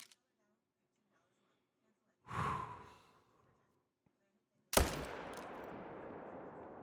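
A single sharp, loud rifle shot fired at a lion in theHunter Call of the Wild, with a long rolling echo trailing off, preceded by a brief breathy sound.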